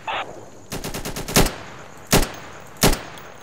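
Gunfire in the tactical shooter Insurgency during a match against AI bots: a rapid automatic burst of about eight close, loud shots, followed by two separate sharp single shots spaced apart.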